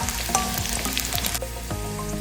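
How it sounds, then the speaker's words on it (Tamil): Orange peel sautés in oil in a kadai over a medium flame, giving a steady, crackling sizzle close by, with background music playing underneath. "இப்ப ஆரஞ்சு தோல் சேர்த்ததுக்கு அப்புறம் ஃப்ளேமை மீடியம்ல வச்சு இதை நல்லா எண்ணெயில இப்படி வதக்கி எடுங்க."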